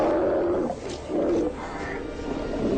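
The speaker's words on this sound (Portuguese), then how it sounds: "Hostis e possivelmente letais leões marinhos." Sea lions on the Atacama Desert coast roar in a few loud, rough, throaty bursts that overlap, with short dips between calls and no talk.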